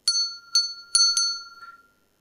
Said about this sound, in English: I will ring this bell.